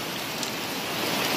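Afternoon rain falls steadily near a house, a close, even hiss of drops on surfaces with no voices over it.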